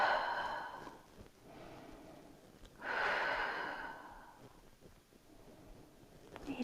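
A slow, breathy exhale during a gentle splits stretching exercise, soft and close. It swells for a few seconds and then fades between quieter breaths.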